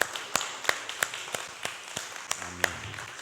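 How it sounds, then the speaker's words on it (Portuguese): Sparse, regular hand claps from a church congregation repeat roughly every third of a second, over a steady background hum, with a faint tone near the end. "Vamos aplaudir o Senhor por esse texto?"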